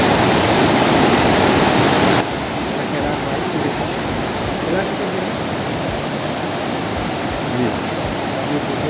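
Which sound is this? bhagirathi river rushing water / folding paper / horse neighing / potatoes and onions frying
bhagirathi river rushing water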